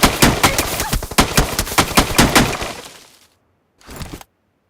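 Rapid bursts of automatic gunfire in a shooting video game crackle close and loud for about three seconds. After a pause of silence, one short final burst follows.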